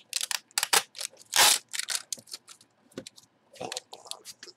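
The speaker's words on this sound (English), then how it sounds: "Cut that seal." Sharp crisp slicing and tearing bursts as a blade cuts through the seal on a box holding an MLB bat, several short cuts in quick succession at close range.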